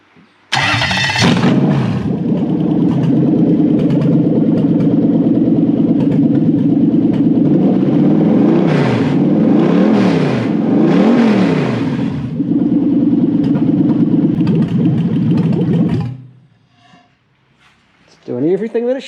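A Toyota 1UZ V8 fitted in a VL Holden Commodore cranks and fires into a loud, steady idle, then rises through a few revving swells and idles again before shutting off; it is close and dominant, with brief noises after it stops.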